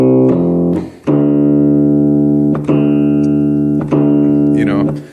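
Low D tine struck four times on a fatigued steel tongue drum or similar tined instrument, each hit ringing loudly with sustained harmonic overtones that slightly waver, close and alone.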